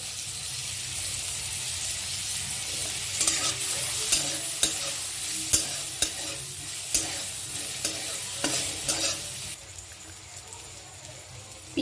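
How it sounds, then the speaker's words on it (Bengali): Chopped onion and green chili sizzle in melted butter with a steady crackle. A utensil stirs and scrapes against the pan in a regular series of knocks, and the sizzle thins out toward the end. "পেঁয়াজটা একটু ভাজা ভাজা যেই হয়ে যাবে একটু"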